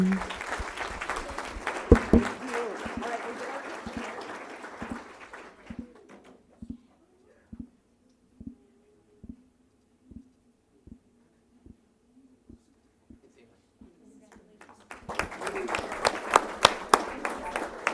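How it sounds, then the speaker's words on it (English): School board meeting audience bursts into applause that thins to a few slow, isolated claps across a quiet stretch, with faint talk in the background, before a second loud round of crowd clapping swells up at the end. "round of applause for Ava Stewart."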